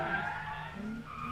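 A drift car coming off the banked section with its tires squealing in a long, loud skid. The pitch wavers as the car slides, with faint commentary voices beneath.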